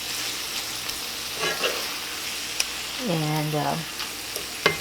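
Onion browning in a frying pan for chili gives a steady, close sizzle throughout, with a few stirring scrapes and small ticks, and a brief spoken word partway through.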